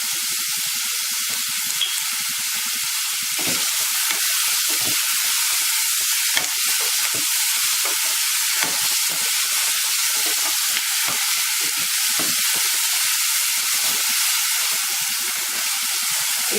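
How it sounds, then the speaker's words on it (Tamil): Onions and tomatoes with salt sauté in a pan, giving a steady, close frying sizzle with a broad hiss that runs unbroken throughout, alone with no voices. "இப்போ வெங்காயம் தக்காளி நல்லா வதங்கிடுச்சு"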